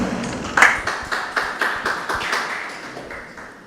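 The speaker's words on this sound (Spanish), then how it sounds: "Lo recibimos un fuerte aplauso." A small audience at a talk on delays and cost overruns in public works claps in a clear rhythm, with distinct individual claps close by. The clapping grows after a first burst and then slowly tapers off.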